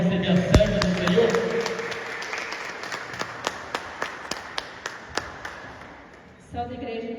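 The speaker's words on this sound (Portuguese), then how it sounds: "Uma salva de palmas para receber a serva do Senhor." A church congregation claps in a steady rhythm, with crisp, evenly spaced claps that fade out near the end; a voice and some tonal sound come in at the start.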